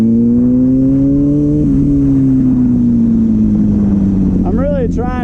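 A Kawasaki ZX6R motorcycle engine holds a loud, sustained high rev during a rolling burnout, the pitch dipping slightly and then sliding lower, ending with a few quick throttle blips.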